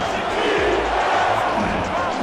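Steady roar of the home crowd at a Cleveland Vipers football game against Oklahoma City, a dense, continuous wash of cheering voices with no clear breaks.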